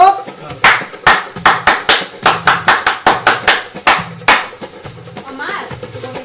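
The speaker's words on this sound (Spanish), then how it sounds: "¡Un aplauso!" A crowd claps in a steady, rhythmic beat, sharp claps repeating quickly, with voices and a tonal background underneath.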